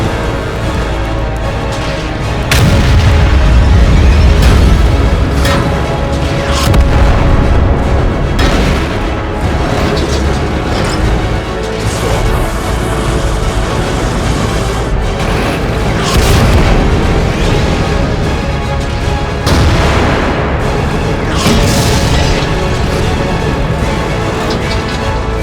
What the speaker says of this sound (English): We need to hit him with artillery!